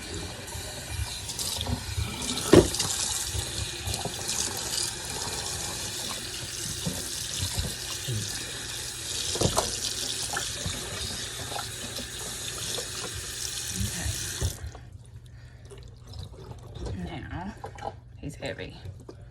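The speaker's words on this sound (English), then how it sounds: "the blood and the juices and everything that was on there, I like to have it rinsed off" Tap water runs steadily over a raw Thanksgiving turkey in a sink, a continuous splashing rush that stops near the end, with a person talking over it.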